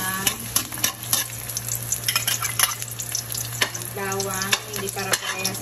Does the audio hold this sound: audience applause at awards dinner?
no